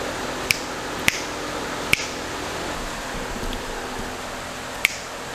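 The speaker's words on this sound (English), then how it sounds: "We'll just do a quick finger snapping." Four sharp finger snaps, three close together and a final one after a pause, crisp and near against a low steady fan-like hum in a workshop.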